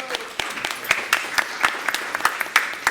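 An audience at a Spanish-language communication forum breaks into applause: a dense patter of hand claps at moderate volume, steady for about three seconds, with some background voices mixed in.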